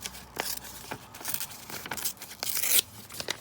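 Paper torn across in several quick rips, close by, with crinkling between the tears and one longer, louder rip near the end.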